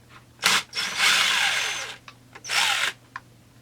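A power screwdriver or drill backs two machine screws out of the top of a Stihl MS200T chainsaw. It gives two whirring bursts of about a second each, close and moderately loud, with small clicks of handling between them.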